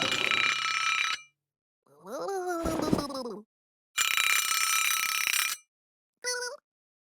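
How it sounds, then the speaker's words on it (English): A cartoon alarm clock rings in two loud, shrill bursts, each roughly a second long, with short animated grunting or groaning vocal sounds in between. "Little Blue uses an alarm clock to wake up in the morning."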